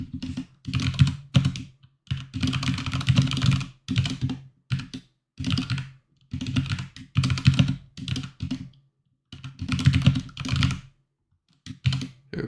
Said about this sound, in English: Let's go ahead and type a few of these out.